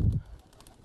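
A single short, low coo from a sport pigeon sounds close by, followed by a brief stretch of faint, quiet background.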